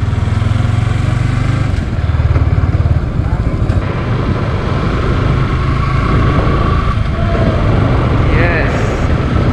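A Yamaha R15 V4 motorcycle engine drones loudly and steadily up close while riding at night, with wind rush and a voice briefly heard over it.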